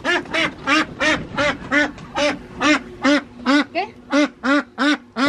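Ducks in a farmyard quack in a steady run of about fifteen loud, close calls at an even rhythm, one slightly different cry mixed in, with no voices.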